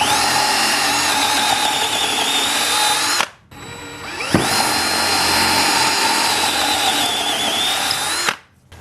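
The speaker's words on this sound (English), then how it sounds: "Okay, so the holes are drilled." A power drill bores holes into a wooden patio table in two long, loud, steady runs, each spinning down to a stop with a brief pause and a click between them.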